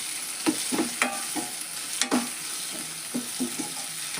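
Potato gravy masala fries in oil in a pan while a spoon stirs it, a soft steady sizzle broken by repeated scraping strokes, close and without talk.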